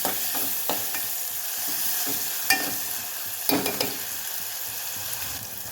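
Chopped tomato and ginger garlic paste fry in a pan, a continuous close sizzle broken by a few scraping stirs and clinks of the spoon, no voices.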